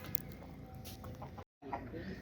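Sick Lohman Brown hens cluck faintly in a cage, soft scattered clucks and rustling in a noisy enclosure, with a brief gap of silence partway through.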